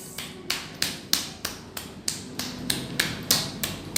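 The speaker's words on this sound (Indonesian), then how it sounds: "Selanjutnya menggunakan telapak atau belakang tangan menepuk atau tepuk step." A flat palm or the back of a hand tapping in a steady rhythm, about a dozen crisp, close pats evenly spaced roughly a third of a second apart, heard alone with no talking.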